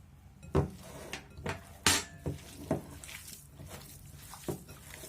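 Cabbage filling for chebureki mixed and kneaded by hand in a bowl, a series of irregular soft squishes and clinks against the bowl, close and fairly quiet, no talking.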